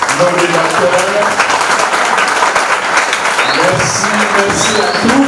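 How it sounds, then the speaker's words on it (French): Loud, sustained applause from the audience at a round-table on language sciences and multilingualism, dense continuous clapping filling the room with voices murmuring underneath. "on va applaudir très fort pour nos débatteurs"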